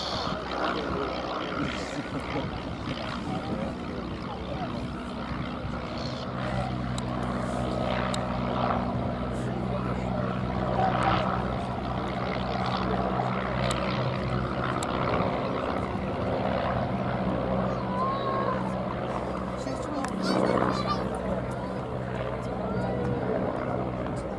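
Vintage propeller aeroplanes, among them a De Soto and a Parnell Elf, taking off at an airshow, a steady droning engine roar that holds throughout with a low rumbling layer, and crowd or commentary noise mixed in.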